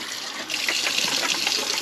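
Warm tap water runs steadily over CPAP supplies being rinsed, a continuous close hiss and splash with slight shifts as the items move under the stream.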